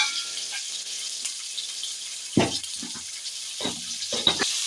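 Big onions sautéing in a pan, a soft steady sizzle with a few louder clattering bursts as they are stirred, no talking.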